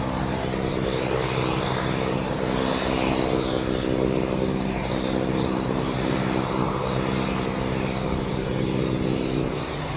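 Frecce Tricolori aerobatic team jets in a display at the Royal International Air Tattoo at RAF Fairford, a steady loud engine roar with a sustained tonal drone holding through the whole stretch, no talk over it.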